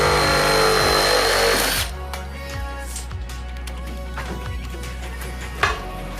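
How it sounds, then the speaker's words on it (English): A Sawzall reciprocating saw cuts during home room renovation work, loud and harsh for the first two seconds, then trailing off into quieter rattling and bumps with one sharp knock near the end. "This is a Sawzall, appropriately named. It will saw just about anything."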